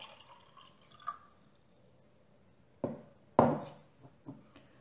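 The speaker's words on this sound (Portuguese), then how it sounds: "Colocar água até metade do volume." Water is poured into a container up to half its volume during a science lesson, giving a few short splashing and knocking bursts separated by quiet pauses.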